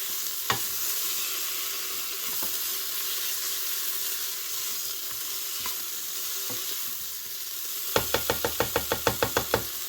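Meat and onions stir in a Cookeo multicooker under a constant loud sizzle, with occasional spoon knocks and then a quick run of rhythmic taps against the pot near the end, close by with no voices.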